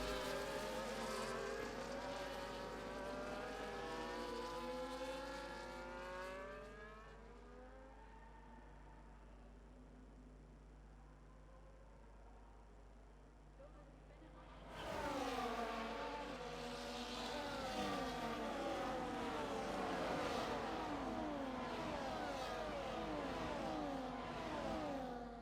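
Engines whine and rev as race cars accelerate through the gears in a racing video game, with many cars rising and falling in pitch together. The roar drops off for several seconds and then surges back loud.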